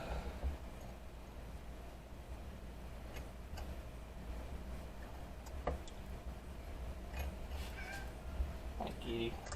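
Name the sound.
cat meowing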